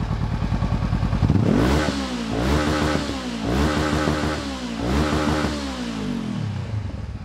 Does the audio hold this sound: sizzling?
no